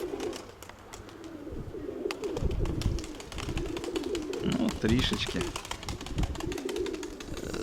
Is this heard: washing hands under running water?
no